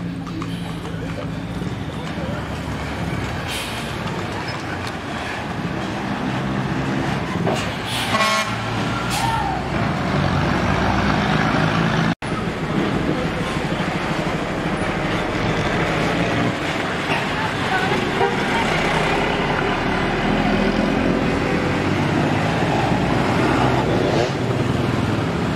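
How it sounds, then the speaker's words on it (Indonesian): A Murni Jaya bus pulls out of Ngadirejo terminal, engine running loud and close under a busy terminal din, with a burst of horn toots partway through. "Oke, bus Murni Jayanya siap diberangkatkan."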